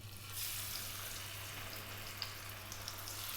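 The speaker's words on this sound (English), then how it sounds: "We're going to take our fish, we're going to drop these in." Whole cod frying in olive oil over medium heat, a steady soft hiss with faint scattered pops and a low background hum, quiet and continuous.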